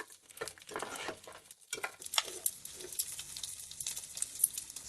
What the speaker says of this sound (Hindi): अभी थोड़ा सा और हम इसको फ्राई करेंगे।